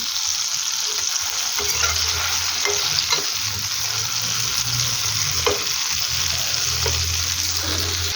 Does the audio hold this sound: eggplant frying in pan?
yes